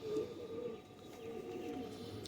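Ferozpuri pigeons give a soft, brief coo, faint and close, over a quiet background.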